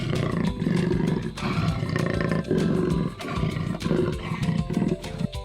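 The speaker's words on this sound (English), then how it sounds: "Do you hear that growl? Who could it be? It's a jaguar!" A jaguar growls loudly and close by in a series of deep, rumbling roars that rise and fall continuously, with brief dips between breaths.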